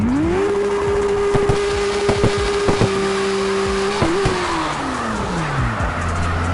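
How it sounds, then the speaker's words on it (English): A car engine in the CarX racing game holds a steady high rev for several seconds, then drops and winds down, with sharp tire squeal and skid bursts cutting in along the way. "Nice engine."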